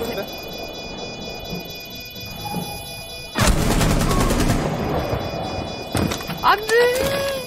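Gunfire erupts in Rainbow Six Siege, a sharp loud burst of rapid shots after a quieter stretch, followed by scattered bangs near the end, with voices talking over parts of it.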